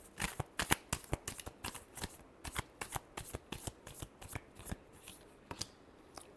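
Tarot cards riffled and shuffled by hand in a rapid, irregular run of crisp flicking snaps, close and clear, with no talking.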